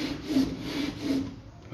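A loose vent window part on a VW Beetle scraping as it moves, a close, rough grinding rub that swells twice and then fades, heard alone without talk.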